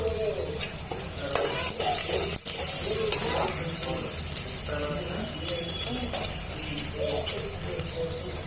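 Onions with salt cooking in oil in a pan, giving a steady sizzle with stirring and scraping sounds throughout while someone talks over the cooking.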